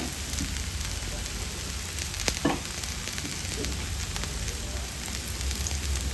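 Radish and ragi flour dosa frying in oil on a pan gives a steady, moderate sizzle throughout, with a brief louder crackle partway through and no voices.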